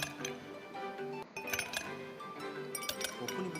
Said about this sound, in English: The Joy-Con can convey to you the feeling of ice cubes colliding in a cup.